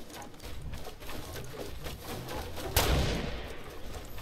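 A single sharp sniper rifle shot in the video game Fortnite cracks out loudly partway through, standing alone above a steady background of game ambience.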